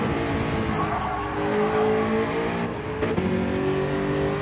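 Gr.4 race cars in Gran Turismo 7 running close together while one overtakes another, engines droning loudly with shifting pitch, tires squealing, and the steady roar of several cars at once.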